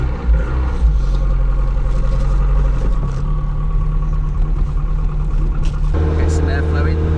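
Interior of a Lotus car on a leisurely drive around Silverstone circuit, windows not working, with a steady low engine drone and road rumble throughout, a shift in tone near the end, and talk over it.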